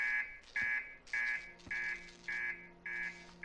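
Repeated electronic alarm beeps from a spaceship in the space exploration game Outer Wilds, with six regular high-pitched pulses about half a second apart, steady and alone.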